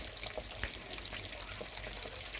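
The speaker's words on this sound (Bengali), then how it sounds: "বাকি মাছগুলো আমি এপিটোপিট করে এভাবে ভেজে নিচ্ছি" Magur catfish pieces frying in oil in a pan, a continuous close hiss and spatter with small pops, steady and unbroken, no talking.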